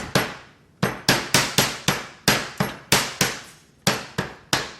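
A Lebanese mortar and pestle pounding vanilla beans, about fifteen sharp, ringing strikes in an uneven rhythm, each loud and close with a brief decaying tail.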